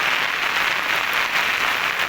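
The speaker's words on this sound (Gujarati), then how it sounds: "અત્યારે 4:30 વાગ્યા છે તો પણ વરસાદ સતત ચાલુ છે." Heavy monsoon rain pours down steadily over flooded Sultanpur village in Mangrol taluka, Junagadh district, a dense unbroken hiss that stays loud and even throughout with no voices.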